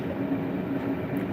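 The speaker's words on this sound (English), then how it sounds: "There's a train in the background" A train passes in the background, making a steady, low rumbling roar with faint rhythmic rail noise. The sound is moderately loud and continuous through the short stretch, with no talking over it.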